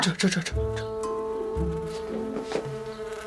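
A honeybee buzzes indoors with a steady, droning hum that runs through the whole moment while people speak briefly nearby.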